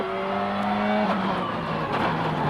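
A Ford Focus rally car at speed on a 2003 Rallye Sanremo stage, its engine loud and close, holding a high strained note that drops and shifts with gear changes and tire noise.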